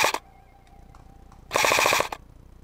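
Airsoft guns firing during an outdoor skirmish: a short loud burst at the start, then a longer rapid automatic string of close shots after a quiet gap.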